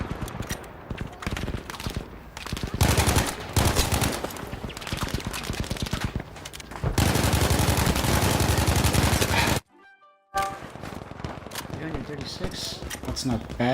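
Sturmgewehr assault rifle fire in a multiplayer shooter game, long sustained automatic bursts with near and distant shots, a short silent gap, and a voice talking over the gunfire.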